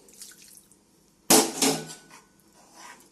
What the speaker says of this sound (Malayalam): കുറച്ച് ചൂടുവെള്ളം കൂടെ ഒഴിച്ചു കൊടുക്കാം.